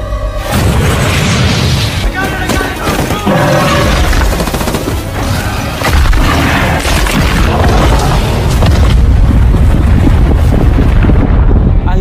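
Grenades dropped onto a monster in a film scene go off in loud, dense booming blasts, with rumbling and roaring debris noise that fills the whole stretch without a break.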